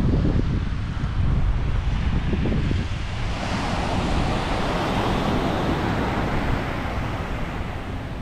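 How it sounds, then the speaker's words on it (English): Steady wind blows across an Oahu beach in Hawaii, a continuous loud broadband rush blended with the roar of rough surf, with no voices. "Alright, so sorry about the wind."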